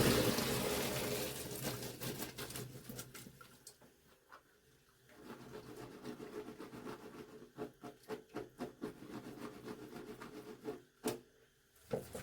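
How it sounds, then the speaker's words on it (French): Blanched broad beans drained after three minutes of boiling: hot water pours off in a rushing splash that fades, followed by scattered light knocks and clatters of the pot and colander, no speech. "puis on les égoutte"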